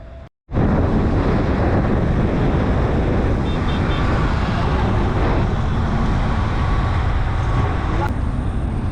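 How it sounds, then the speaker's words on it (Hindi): Cool, rain-freshened wind roars steadily past a microphone on the old Mumbai to Lonavala highway near Khopoli and the Khandala ghat. The loud, dense rushing buffets without pause after a brief dropout at the start. "कहीं बारिश हुई है इसलिए ठंडी ठंडी हवा चल रही है"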